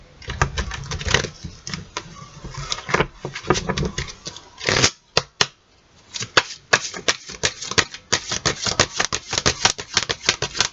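Oracle cards being shuffled for a Christmas-themed Advent reading, heard as rapid, crisp riffling and slapping bursts that repeat through the stretch, close and fairly loud with no talking over them.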